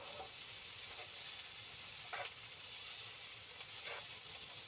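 Steak and onions sizzle steadily in a pan at a cold winter campsite, a soft continuous frying hiss with a couple of brief scraping stirs, fairly faint and with no talking.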